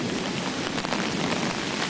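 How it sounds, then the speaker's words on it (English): A torrential rain downpour pours in a dense, steady roar, a constant heavy wash of countless drops with no pauses. "we're going to walk in the torrential downpour and find out"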